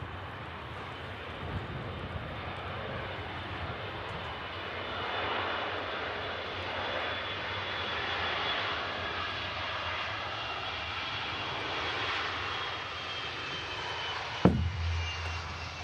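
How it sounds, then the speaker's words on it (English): A steady, broad roar of Icelandair Boeing 757 jet engines fills the scene from start to finish, holding at a fairly even level with no talk over it. A brief sharp knock sounds near the end. "Awesome to see an Iceland Air 757."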